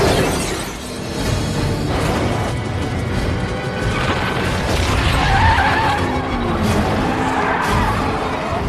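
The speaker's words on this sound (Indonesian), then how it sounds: "Saat keluar dari terowongan, mobil Brian ditabrak oleh Torino hijau milik Phoenix." A green Torino rams a car in an action film scene, giving a dense, loud burst of tire skidding, scraping metal and shattering, with engine roar under the chaotic crash noise.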